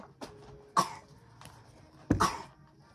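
Three or four sharp coughs spaced a second or so apart, close by, with a quiet room in between and no talking.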